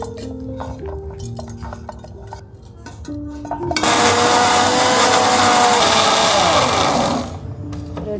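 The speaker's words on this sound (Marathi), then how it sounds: "तर थंड झालं आहे वाटण, आता आपण वाटून घेऊया." A mixer grinder grinds a cooled masala paste of coriander seed, fennel and ginger for a Konkan-style prawn rassa, starting after some light kitchen clatter and roaring loud and steady for about three seconds before winding down.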